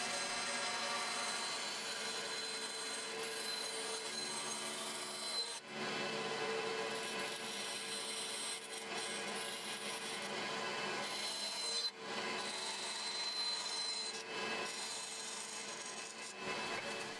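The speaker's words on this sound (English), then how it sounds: "head over to the bandsaw to cut out the rest" A bandsaw cuts a masonite board into a dust collection shroud in a workshop, making a steady, moderately loud whine and rasp with a few brief dips between passes, and no speech.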